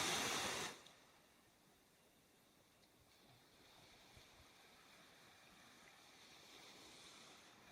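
Ocean surf surges loudly in the opening moment, then settles into a soft, steady wash of distant waves with faint wind and no voices.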